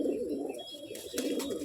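A male pigeon coos close by in a brief run of soft, rolling throaty calls, heard alone.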